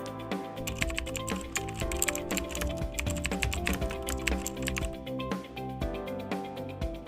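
Rapid computer-keyboard typing while a registration form is filled in, with continuous clicking keystrokes under steady background music.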